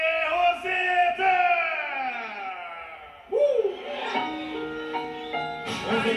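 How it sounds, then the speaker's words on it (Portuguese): A rodeo crowd in Sumaré, Brazil, yells and whoops in loud, drawn-out bursts, with a cheer swelling again after a brief lull and voices carrying over it. "Aplaude ele, Sumaré"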